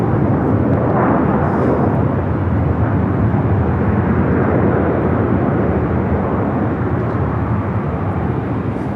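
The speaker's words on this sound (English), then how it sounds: "Green Air Flight 18 heading back to Seoul on the 747-8 Intercontinental" A Boeing 747-8 Intercontinental jet airliner on departure from LAX, heading out to Seoul. It makes a loud, steady broadband roar with no break, filling the whole stretch like heavy rumbling thrust.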